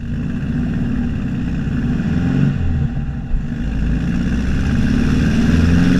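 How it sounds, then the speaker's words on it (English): A car engine hums and revs continuously from inside the cabin while driving a national speed limit road through Snowdonia, the pitch shifting with the revs and no voices present. "You can probably hear the revs because we are on a national speed limit road here"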